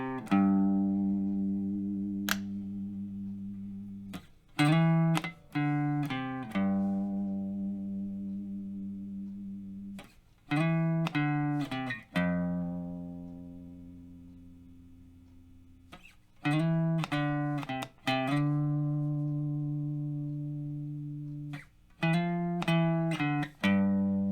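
The bass line from a song plays on guitar as clusters of quick plucked notes separated by ringing sustained tones, moderately quiet and alone with no talking.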